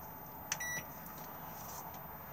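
A microwave oven in a 2020 Elddis Majestic 115 motorhome gives one short electronic beep while its timer is set, clear against quiet room tone.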